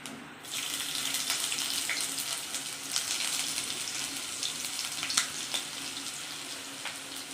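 Garlic frying in a hot pan with cumin for an Odia potato chatpata: a steady, dense sizzle close by, with occasional sharper pops and crackles throughout, no talking.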